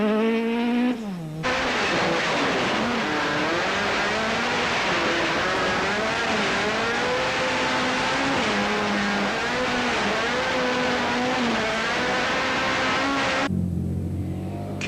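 Toyota rally car racing flat out along a stage during the 2003 Tour Natal, running on sugar-based fuel; a loud, sustained engine roar with rising and falling revs through gear changes, close and continuous with no talk.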